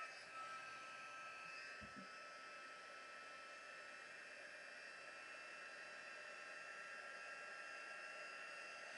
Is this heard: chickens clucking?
no